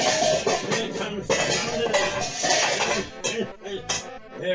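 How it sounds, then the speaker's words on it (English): Metal lid set onto a pot of water on a kitchen stove, giving a few clattering clinks amid other cookware clatter, close and moderately loud, with someone talking over it. "Actually, I should put a lid on it."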